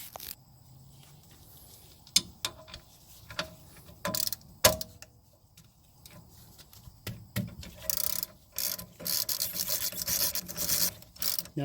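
GearWrench ratchet working on brake caliper bolts of a Mazda 3 rear brake: scattered clicks and rasping turns at first, then a denser run of rapid ratcheting near the end, close by.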